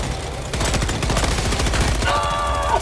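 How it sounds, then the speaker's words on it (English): Rapid machine-gun fire in Helldivers 2 from a turret shooting at the player, a fast sustained rattle of shots with a brief pause before the burst and metallic ringing toward the end. "Who is shooting me?"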